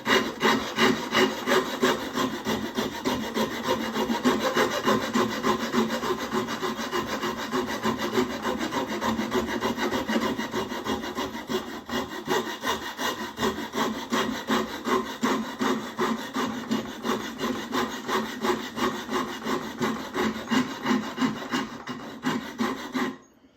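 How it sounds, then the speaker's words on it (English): Dragon file rasping wood while carving a heel: a long run of rapid, rhythmic back-and-forth scraping strokes, close and fairly loud, continuing steadily for over twenty seconds before stopping, with no talking. "I'm going to use our trusty Dragon files"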